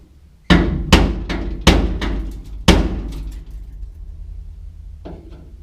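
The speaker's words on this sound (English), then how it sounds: "So our next tool is hammer and chisel. Try to get down here behind this weld." Hammer driving a chisel behind a weld on a 1967 C10 pickup during floor and rocker replacement: five heavy metallic blows in an uneven burst, close and loud, followed by a quieter knock.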